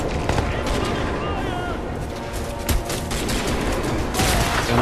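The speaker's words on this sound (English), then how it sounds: "there's probably a dropship shooting at me right now" Dense, continuous gunfire from a dropship in the Crysis 2 video game, rapid bursts and impacts layered over a loud, busy battle backdrop with no pauses.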